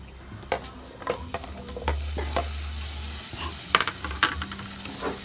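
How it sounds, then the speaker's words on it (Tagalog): Onion frying in a pan for a snail dish, a soft, fairly faint sizzle under intermittent stirring clicks and knocks, with no voices. "Tapos, konting painit lang sa sibuyas."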